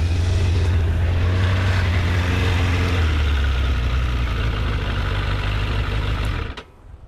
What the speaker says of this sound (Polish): Poczekajcie, zgaszę silnik.